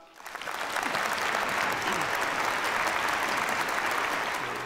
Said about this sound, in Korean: 큰 축하의 박수를 보내주시면 감사하겠습니다.